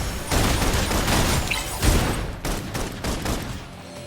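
Rapid bursts of video game gunfire, loud and dense, with one heavier impact partway through and a few trailing shots at the end.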